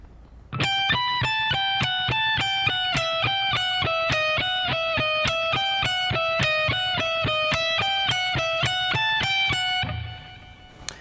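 A distorted electric guitar picks a steady, evenly spaced riff of repeated notes at a slow tempo, loud and close, then stops near the end.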